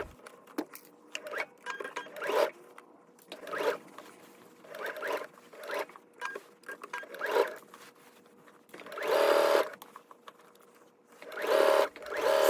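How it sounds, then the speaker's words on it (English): A sewing machine edge-stitches the side and lower edges of a garment gusset in short repeated runs, close and clear, with a couple of longer bursts near the end and no talk. "So now you're going to edge stitch the side and lower edges of the gusset below the small dots."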